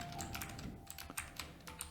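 Computer keyboard keys clacking rapidly as HTML code is typed, a quick uneven run of close, crisp keystrokes with no voice.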